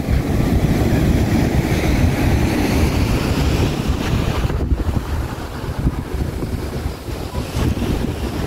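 Sea waves breaking at Carapebus beach, near a lagoon, heard as a steady, loud wash of surf with strong wind buffeting the microphone throughout, no voices.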